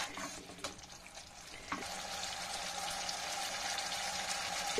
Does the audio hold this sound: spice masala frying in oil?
yes